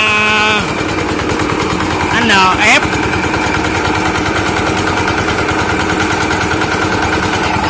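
Mini vibratory road roller's engine running loud and steady with a throbbing vibration and a brief rattling surge partway through, with people talking nearby.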